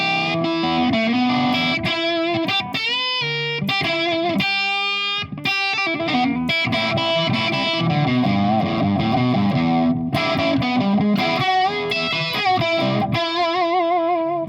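A 1962 custom shop Gibson SG electric guitar played through effects with distortion and chorus, loud continuous riffs and sustained bent notes with quick chord stabs and brief gaps, no voices.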